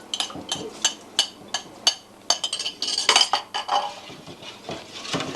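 A foamy yeast mixture stirred into bread dough ingredients in a home kitchen, with a spoon clinking and scraping against the bowl in quick, uneven strokes, loud and close.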